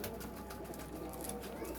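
A Miyan Sahab pigeon with light pink eyes cooing softly in a short, low, murmuring call over a constant background hum.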